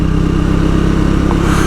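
A 2024 Triumph Speed 400 motorcycle engine drones loud and close while riding, a steady, throbbing mid-pitched hum with slight clatter and no talk.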